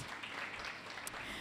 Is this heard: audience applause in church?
yes